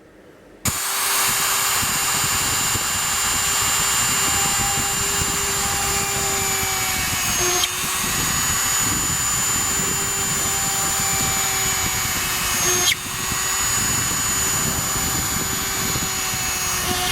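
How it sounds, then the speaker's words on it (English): A high-speed rotary tool drills holes for the CPU fan in an Acer Aspire V17 laptop casing, with a loud, continuous whine that shifts pitch slightly at a couple of brief interruptions, heard close and alone. "My next mod is to make more holes for the CPU fan"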